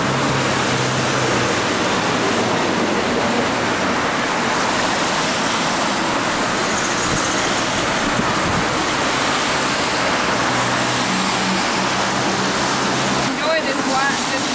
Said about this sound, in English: Enjoy this water and this rain